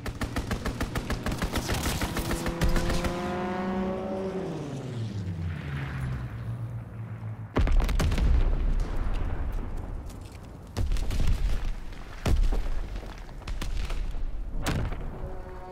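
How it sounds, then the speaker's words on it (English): Rapid machine-gun bursts and heavy thuds from a World War II aircraft strafing run in Call of Duty WWII, loud and close, with a descending engine whine early on and repeated booming impacts throughout. "Call for a strafing run."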